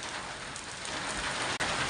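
Heavy rain in a windstorm with thunder and lightning in Podili pours down in a dense, steady hiss, close and loud, with one brief cut-out near the end.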